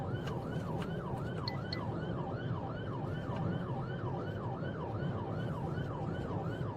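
Emergency vehicle siren wailing in a steady rising-and-falling cycle during a high-speed police chase, loud and continuous over a heavy rumble of engine and road noise, with no voices.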